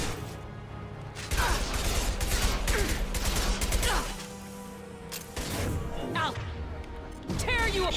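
Sustained fire from a squad in the Mass Effect 2 video game, a steady clatter of shots and impacts with voices talking over the combat.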